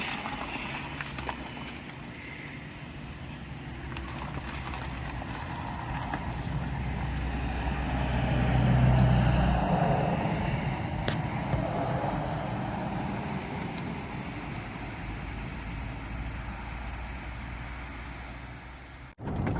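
A golf cart fitted with a 48V lithium battery cruises along with a steady low hum and wind rush that swells midway as it speeds up, then settles, with no talking.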